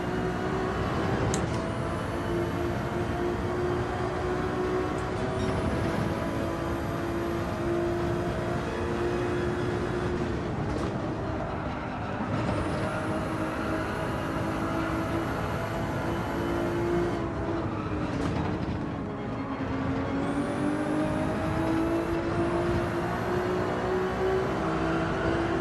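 Racing car engines in Gran Turismo 7, including a Porsche, accelerate up a hill in a steady loud drone, with pitch rising through each gear and dropping at the shifts.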